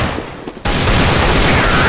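Gunfire in the video game CS:GO, a sudden loud burst after a quiet moment followed by sustained dense shooting, with no talk.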